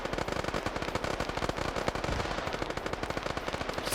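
Dense, rapid automatic gunfire fills a PvP shooter match, with overlapping bursts and sharp shots crackling continuously and loudly throughout.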